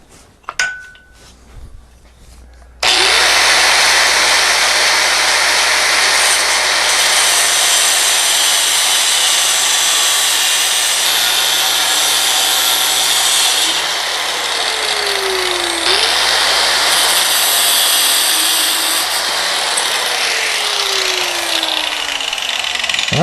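A 5/16 inch steel rod being cut with a power saw, a loud continuous grinding whine that starts abruptly after a few seconds of quiet handling and runs steadily to the end with slight pitch sweeps.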